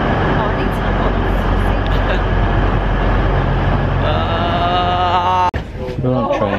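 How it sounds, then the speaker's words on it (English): Inside a crowded London train, a steady low rumble of the carriage runs under a thick murmur of many passengers' voices, with a sharp clunk near the end and chatter continuing after. "We're on train, and there's a lot of people on here,"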